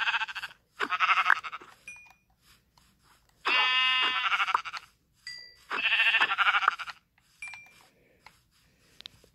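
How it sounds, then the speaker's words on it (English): Sheep in the Minecraft video game bleat in short, buzzy bursts. Four or five separate calls sound close and alone, with quiet gaps and faint game beeps between them. "We're going to slay more sheep."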